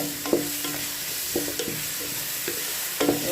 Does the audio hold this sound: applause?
no